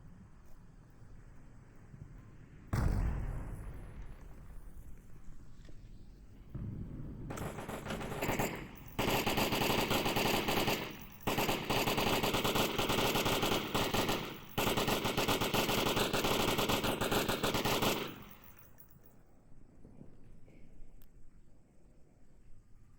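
Sustained machine gun suppressive fire in the VR shooter Onward, heavy automatic bursts running down a lane for long stretches, loud and close, broken by brief pauses, with windy background noise before and after.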